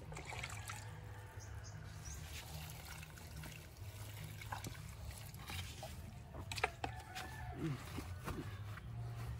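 Water poured onto a potted orchid, a steady close trickle and splash over a low constant hum, with soft handling noises and a few brief clicks.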